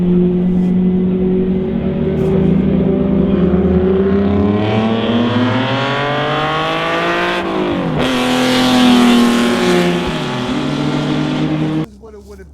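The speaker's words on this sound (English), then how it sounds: "act like cars are coming by." Race cars roar past on a speedway oval in the style of 1940s and early-1950s NASCAR at Columbus Super Speedway. Loud engines swell and drop in pitch as they pass close by, with a sharp cut near the end.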